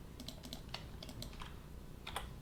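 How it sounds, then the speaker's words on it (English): Light clicking of computer keyboard keys during 3D car modeling, a scattered run of quick taps heard close and fairly quiet, no talking. "So now if we hit 3 on the keyboard"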